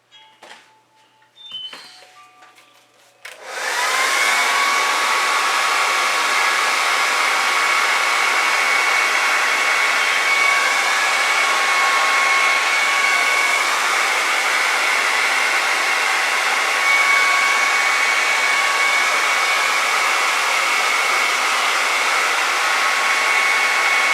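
A hair dryer blows a steady, loud, continuous whir for about twenty seconds, drying fluid acrylic paint, after a few seconds of quieter handling noises.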